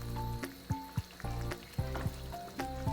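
Chicken karahi with yogurt sizzles in a pan, a steady close frying hiss broken by sharp clinks and scrapes of stirring every half second or so.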